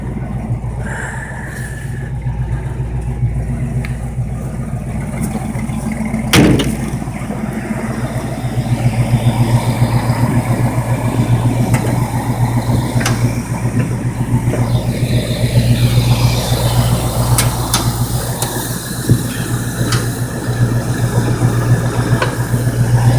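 A 1971 Ford E-300 Super Van with a new two-barrel carburetor idles after start-up, a steady, close mechanical rumble with a faint rhythmic chug and a few small clicks and knocks.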